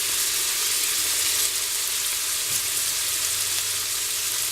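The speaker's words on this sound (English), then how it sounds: "Stir it around." Beef stroganoff being stirred in an Instant Pot gives a steady, close, even frying sizzle with a soft undertone, continuous and alone with no voices.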